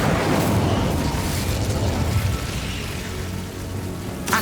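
An Incendio fire spell is cast in Hogwarts Legacy, giving a loud, dense burst of crackling, roaring flame that holds steady for several seconds and then eases slightly.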